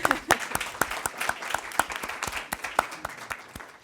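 A school board meeting audience claps for Debbie, a small group of hands giving sharp, distinct claps in an uneven rhythm that runs steadily throughout, moderately close in a meeting room.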